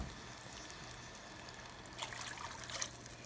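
Water poured into a pot for cooking rice, a faint, thin trickle that grows slightly louder and splashier toward the end.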